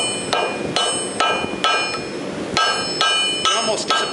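Hammer blows on a forge-welded wire blade with stainless strips, sharp ringing metallic strikes falling at a steady rhythm of roughly two per second, loud and close.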